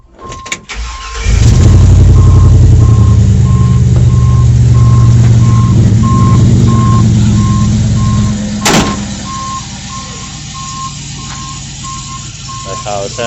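A Chevrolet C10 with a swapped LS 5.3 V8 and 4L60 transmission cranks and fires up, then settles into a loud, steady rumbling idle close by, with a brief sharp noise near the end and a repeating electronic beep alongside.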